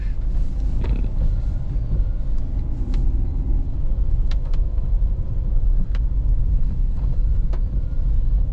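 A Dacia Duster 1.2 litre 130 hp 4x4 rolls along a dirt track, its steady interior rumble heard from inside the cabin, loud and continuous, with occasional creaks and knocks from the suspension over bumps.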